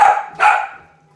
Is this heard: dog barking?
yes